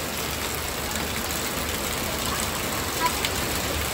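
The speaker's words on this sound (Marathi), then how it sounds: "बघा मित्रांनो खूपच पाऊस चालू आहे, जोरादार पाऊस आहे." Heavy rain pours outside a wholesale and retail decoration shop in Thane West, a dense, unbroken hiss that holds steady throughout, with a small knock near the end and no clear talk.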